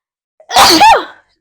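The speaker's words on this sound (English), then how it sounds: "Goodness, 3 sneezes." A single loud sneeze up close, with a quick intake before the explosive burst, surrounded by silence.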